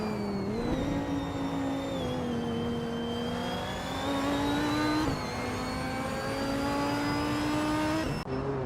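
Race car engines from an AI car racing game: a steady, buzzing engine drone with pitch shifting up and down through gear changes, continuous and moderately loud with no talk.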